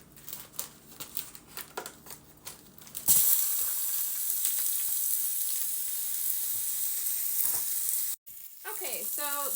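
Ground turkey taco meat sizzles loudly and steadily in a hot pan after being dropped in, a continuous crackling frying hiss following some earlier clatter, with a short break near the end.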